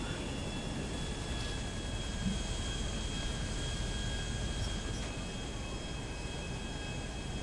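Jet aircraft in GTA 5 Online, a continuous loud engine roar with steady whine, filling the whole stretch without talk.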